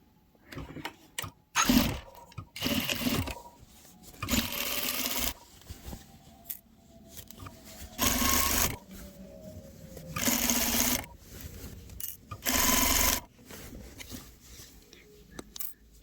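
A sewing machine stitches a half-inch seam in fabric for a tailored bedskirt, running in several bursts of rapid mechanical whirring separated by quiet pauses while the fabric is adjusted, close and moderately loud.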